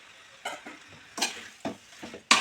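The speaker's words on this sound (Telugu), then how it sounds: "ఇదంతా కొంచెం బాగా కలిసేలాగా కలుపుకోవాలి" Chicken curry being stirred in a pan with a spoon, giving four or five short scraping, sizzling strokes at uneven intervals, close and fairly quiet.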